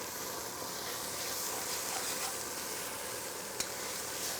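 Onions, carrot, celery and garlic sizzle steadily in a hot pan as they caramelize, a dense close hiss with faint stirring and one brief click near the end.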